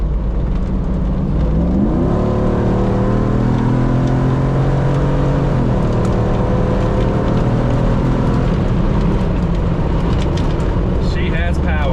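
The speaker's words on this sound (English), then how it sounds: "if you give it gas, the Jeep moves. It's just a little bit of gas. It just goes." A Jeep Wrangler with a swapped 6.4 Hemi V8 accelerates, its engine note rising in pitch twice in close, loud, sustained surges of revving.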